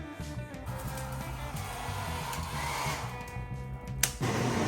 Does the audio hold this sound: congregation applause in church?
no